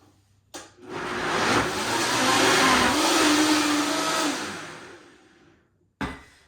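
A Vitamix blender whirs through chicken, tomato and sweet potato, starting with a sharp click, running at a loud, steady roar that swells and eases, then switching off with a final clunk.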